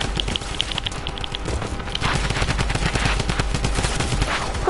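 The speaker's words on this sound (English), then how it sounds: "My four drum guns shall kill you all." A drum gun fires in a video game as a rapid, continuous stream of loud automatic shots, close and sustained, with small pickup chimes early on and no talking.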